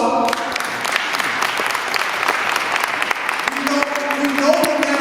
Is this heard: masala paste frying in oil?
no